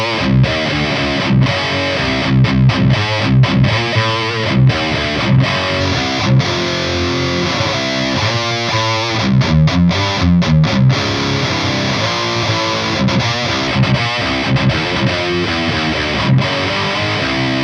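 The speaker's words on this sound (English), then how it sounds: "it's a very good sounding speaker for high gain guitar tones in the studio if you know how to use it right" A high-gain, heavily distorted electric guitar plays through a Fryette guitar speaker in a studio, with loud, dense riffs of chugging palm mutes and short sustained chords that continue without pause and carry no voice.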